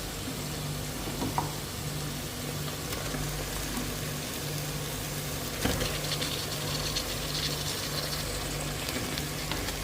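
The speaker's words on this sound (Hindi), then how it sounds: "अब मटन को हमें इतना भूनना है कि इसका कलर चेंज हो जाए" Mutton frying in a pan with softened onions gives a faint, steady sizzle with occasional soft clicks, over a low background hum.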